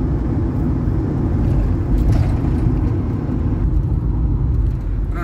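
A car drives along a rural road through a Transylvanian village in the Carpathians, giving a steady loud engine rumble and road noise from inside the car with no talking.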